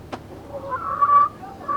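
A hen clucks quietly in a few short, low calls close by, after a sharp click at the start, with no talking.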